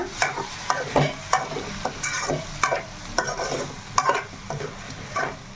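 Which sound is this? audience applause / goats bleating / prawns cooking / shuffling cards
prawns cooking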